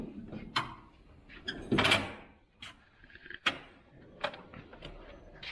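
A drawer of an 84-inch Snap-On EPIQ Series toolbox sliding open, with a few distinct clacks and metallic clicks spread across the moment, close and fairly quiet, with no voices.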